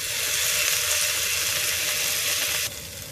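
Chopped tomato hits hot oil in a pan for mint rice. The sizzle is loud, steady and close, then drops sharply in level near the end.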